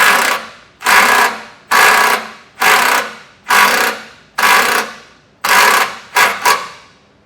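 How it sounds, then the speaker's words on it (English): An impact driver set to self-tapping mode drives a self-tapping screw into a truck frame during an air compressor install, firing seven loud, close rattling bursts of about half a second each, the final ones coming in quicker succession. "So now I'm going to get the self-tapper in there."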